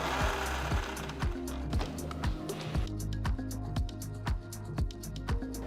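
An electric mixer grinder pulsing green chillies, ginger and garlic into a coarse paste, a rhythmic run of short motor bursts with clattering blade knocks, repeated roughly every half second, close and moderately loud.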